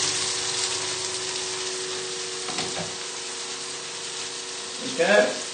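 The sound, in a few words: stirring pasta in a pan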